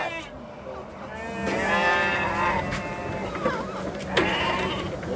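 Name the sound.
goats being loaded onto a Tata 1109 truck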